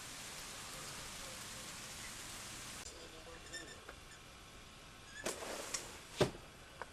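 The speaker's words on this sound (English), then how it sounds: "It's raining out." Steady rain falls outside as a soft, even hiss that fades partway through, followed by a few louder scattered taps and knocks.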